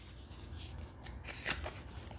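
Tarot cards being shuffled by hand, a soft continuous papery riffling and rubbing with a few sharper flicks, close and fairly quiet with no talking.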